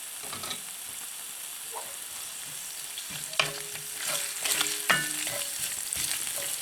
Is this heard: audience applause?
no